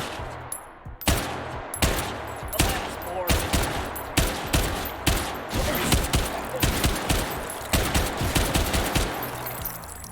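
An SFAR rifle firing in a modded video game, loud rapid shots cracking one after another in quick bursts throughout, close and dense with brief echoing tails.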